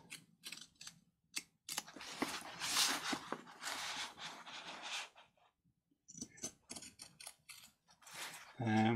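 Scissors cut slowly through a junk journal cover in short effortful snips and crunches, close and intermittent, with a few pauses between cuts.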